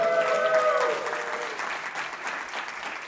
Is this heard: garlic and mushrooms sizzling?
no